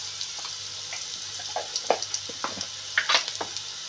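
Sliced onions with a little turmeric frying in a pan for chapathi, a steady soft sizzle broken by scattered clicks and light stirring taps, close and fairly quiet with no talk.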